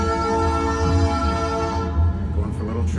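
A museum train ride simulator plays a loud rumbling, droning train with a steady low hum and sustained horn-like tones, close and continuous, fading slightly near the end.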